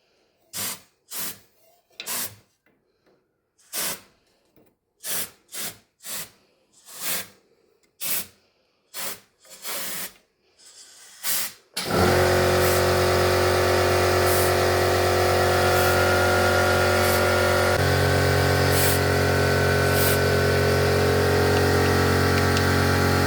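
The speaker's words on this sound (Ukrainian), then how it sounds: "Тепер беремо нашу трубку красивеньку і зверху вниз починаємо потрошку здувати." Air is blown through a tube to clear soot from a brick solid-fuel boiler: first a series of short, sharp puffs, then a loud, continuous, close rushing hiss that holds steady to the end.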